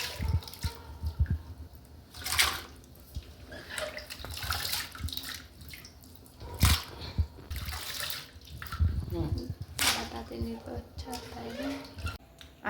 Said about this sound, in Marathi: आपण अशा एका मोठ्या डब्यामध्ये पाणी घेऊन असे चिप्स टाकून घेणार आहोत.